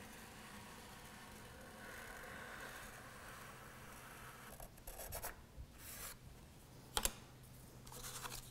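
A pencil traces around the edge of a wooden piece for a cabinet face frame, a faint, quiet scratching and rubbing that turns into a few louder scrapes and a sharp tap near the end.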